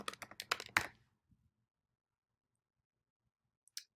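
A property address is typed on a computer keyboard: a quick burst of about eight close, crisp key taps, then near silence with a faint tap or two and a final click.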